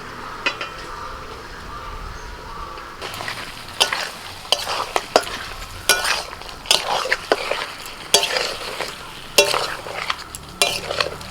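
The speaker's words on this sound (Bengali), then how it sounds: "মশলার সাথে আলু আর ব্রোকলি ভালো করে আমি কষিয়ে নিয়েছি" Fried potatoes and broccoli cook in a pan with spices, a soft, steady sizzle broken by repeated scraping strokes of a spoon stirring in an uneven rhythm.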